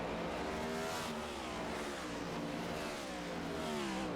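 Several race cars in a racing video game drone together in a continuous layered engine hum, pitches sliding slowly as they clutch and coast, steady and moderately loud with no speech over it.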